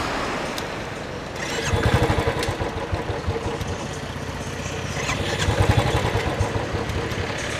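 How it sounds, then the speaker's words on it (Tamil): A Royal Enfield Signals BS4 motorcycle engine cranks, catches and settles into a steady, thumping idle, with the pulses swelling louder partway through, heard up close. "நான் உங்களுக்கு ஒரு வாட்டி வேணால் ஸ்டார்ட் பண்ணி காமிக்கிறேன்."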